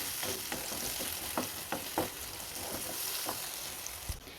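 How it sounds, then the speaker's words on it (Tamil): Onion, tomato and garlic sauté in a pan for a sardine curry, a steady close sizzle broken by the soft scrapes and knocks of a spoon stirring, with no one talking. "இப்போ வெங்காயம் தக்காளி பூண்டு எல்லாமே நல்லா வதங்கி நல்லா சுருண்டு வந்து வரணும்"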